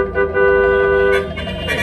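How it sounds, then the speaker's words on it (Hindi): A car horn toots close by over a running engine, a sustained blast followed by shorter honks, from a vehicle being driven fast through traffic. "ये जो तुम धड़ाधड़ हॉर्न बजा रहे हो"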